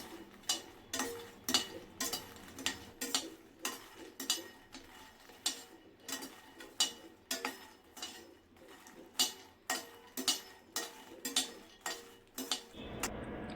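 About a cup of makhana (fox nuts) dry-frying over medium flame in a hot kadai gives a steady series of sharp clinks and scrapes as a ladle stirs them, rhythmic and close, with no talking.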